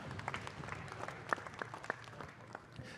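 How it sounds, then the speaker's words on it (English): Applause from an audience at a combat sports weigh-in, a faint, steady spatter of scattered hand claps heard from a distance, with a few sharper claps standing out and a murmur of crowd behind. "Round of applause, please, for Amber Amelia and Connie Brown."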